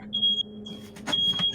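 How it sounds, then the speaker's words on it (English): A fire alarm in the PS1 game PCP Dream Emulator gives a shrill, steady electronic tone in broken bursts, loud and close, over a low hum and some muffled game noise. "Is that a fucking fire alarm?"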